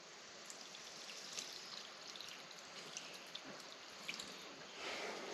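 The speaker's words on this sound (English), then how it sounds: "let's just see what happens if I pour some water on it" Water splashes and trickles steadily onto rockwool insulation, a soft continuous pouring with scattered drips, close by and fairly quiet, with no talking.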